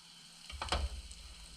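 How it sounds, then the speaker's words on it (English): Food sizzling in a pan as it is stirred and sautéed, a brief faint burst of crackling and scraping that swells and fades within a second. "I'm just stirring it up in there. It's like sauteing it"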